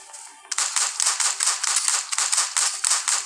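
Rapid, sharp gunfire from the survival video game Dawn of Zombies Survival, a rhythmic burst of about a dozen crisp shots at steady pace, loud and close with no talk over it.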